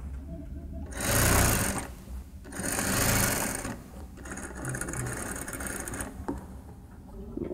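Sewing machine stitching embroidered towel fabric, running in two loud bursts of a second or so each and then a longer, lighter stretch of steady whirring.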